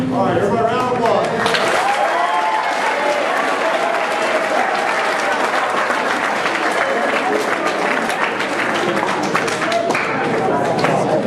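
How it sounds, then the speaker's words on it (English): An audience at a JROTC change of command ceremony claps loudly and steadily. The applause is continuous and close, with some crowd noise and voices underneath. "All right, everybody, round of applause."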